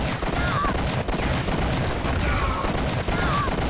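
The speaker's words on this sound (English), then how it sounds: "let's use the guns on this guy." Gunfire from weapons in the Jedi Academy video game, a dense rapid barrage of shots and blasts filling the whole moment at steady loudness, with no talk over it.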